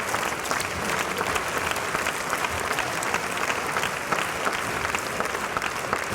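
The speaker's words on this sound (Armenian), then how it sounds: "ավելի բարձր, լավ ենք ծափարում" Sustained applause fills a hall as a seated audience claps evenly and energetically throughout, a dense unbroken patter.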